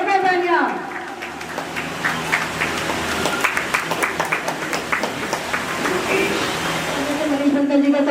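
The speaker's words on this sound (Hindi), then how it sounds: "जोर में तालियां हो जाए भाई" An audience at a birthday celebration in a hall claps in a lively, uneven patter of applause beneath someone speaking loudly over it.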